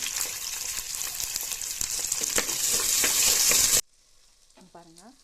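Shallots and garlic sauté in oil with a loud, dense sizzle and occasional stirring scrapes, building steadily before cutting off abruptly. A brief voice follows in near silence.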